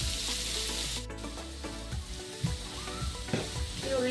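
Onion and green chilies sauté in a pan with a steady, close sizzle, punctuated by a few scraping stirs of a spoon against the metal.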